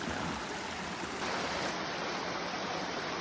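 Rushing water from a waterfall and mountain stream on a hiking trail in New Hampshire's Kinsman range, a steady broadband roar that fills the air evenly, with no voices.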